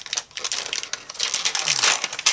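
Plastic stamp set cases clatter and rustle while being handled and taken out, a string of close, crisp clicks and crinkly knocks lasting a couple of seconds.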